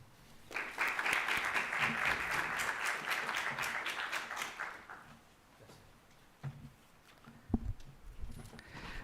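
Audience applause at a university economics and administration congress in Chile, a sustained burst of clapping from a seated crowd lasting several seconds before tapering into a few scattered claps and room noise.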